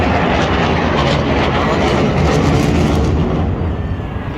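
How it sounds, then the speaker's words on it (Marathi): A powerful, loud Indian Air Force fighter jet roar sweeps past close by at the Marine Drive air show in Mumbai, a dense rushing blast that eases off slightly at the end. "जेट आलेलं आहे बघा किती फास्ट आहे."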